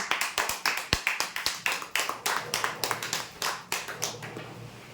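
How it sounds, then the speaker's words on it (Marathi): A small audience at a lucky draw prize announcement claps for a winner: a loose, uneven run of sharp individual claps from several people that trails off gradually. "जोरदार टाळ्या होऊ द्यांच्यासाठी"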